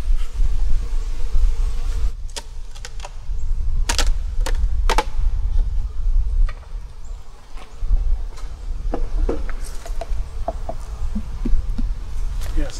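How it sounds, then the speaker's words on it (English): Honey bees swarm around a very active, crowded green beehive in fall, a dense steady buzz filling the air throughout with several sharp knocks and clicks of hive handling, close and loud. "this green hive is very active, which tells me it's very packed with bees"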